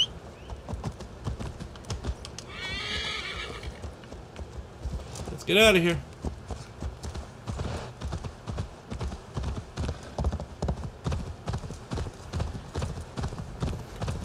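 Steady clip-clop of a galloping horse's hooves in a quick rhythm runs throughout, with a brief horse whinny midway and a voice speaking over it, in the video game Assassin's Creed Valhalla.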